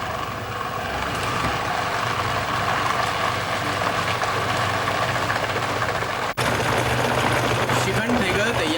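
A domestic Baby Prince flour mill with a blender attachment whirs while mixing shrikhand with powdered sugar and cardamom, a steady loud motor drone that cuts out for an instant before resuming.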